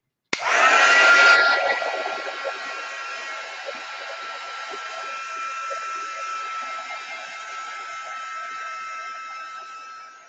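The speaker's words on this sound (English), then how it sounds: "So let me try to dry this real quick with my heat tool." A heat tool blows steadily over acrylic paint to dry it, a loud continuous whirring hiss that surges at the start and then holds close and constant, with no talking.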